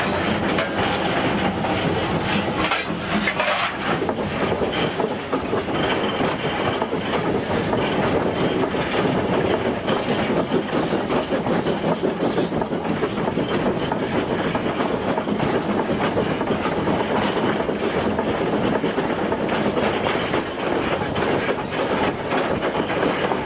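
Heritage railway train trundling steeply uphill with the engine slowing, a steady close rumble with clickety-clack of the wheels and some hiss, continuous throughout with no talk.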